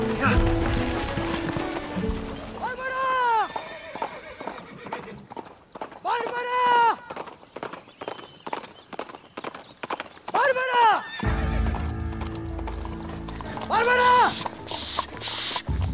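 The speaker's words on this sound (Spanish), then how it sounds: "Carmelito, préstame el caballo" Horse hooves clip-clop at a run while the animal gives several loud, rising whinnies spaced across the passage, set in a Venezuelan telenovela ranch scene, with people talking over parts of it and a music bed in places.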